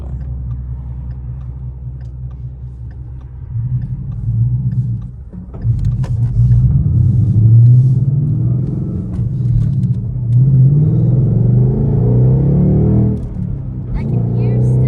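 An S550 Mustang GT fitted with an SR Performance axle-back exhaust pulls away from a low idle into a loud, deep, rising rumble, easing briefly before surging again as it accelerates nearby.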